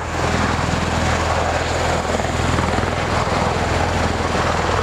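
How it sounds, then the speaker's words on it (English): A V-22 Osprey tiltrotor hovers in helicopter mode, a loud, steady rotor thrum with pulsing low beats and a dense engine roar, close and continuous, with no talk. "It is in helicopter mode. It can fly as a helicopter, hovering over small remote areas and landing in small landing zones."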